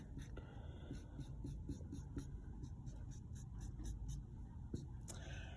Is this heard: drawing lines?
yes